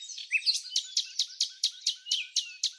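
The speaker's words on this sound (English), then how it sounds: "catch a glimpse of a tiny golden bird singing its heart out" Small golden desert bird singing a rapid, repeated series of about ten bright, high chirping notes in an even rhythm, clear and close with no background noise.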